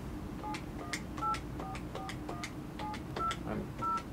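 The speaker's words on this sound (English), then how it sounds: "Okay, we're gonna try to make a call." A telephone speakerphone dials a number, sending a quick series of about a dozen separate DTMF key tones at a steady pace over a low, constant background hum, with no talking.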